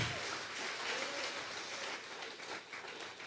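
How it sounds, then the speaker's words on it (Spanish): A church congregation at a Sunday service clapping as an offering to God, a faint, diffuse patter of many hands that swells and then thins toward the end. "vamos a regalarle ofrenda de palmas al Dios de la gloria"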